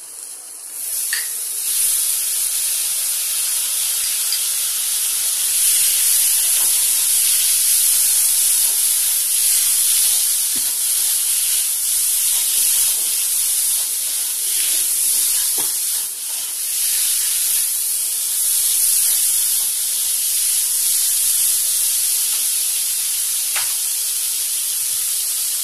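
Shrimp hitting a hot pan for a sweet jute leaf curry give a loud, steady broadband sizzle and hiss that holds for the whole stretch with no talk.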